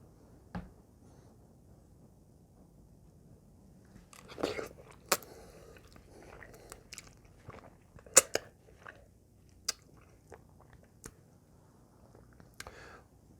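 Someone eats spicy Samyang Buldak dry fire noodles up close, with soft chewing broken by scattered sharp bites and clicks in a quiet room.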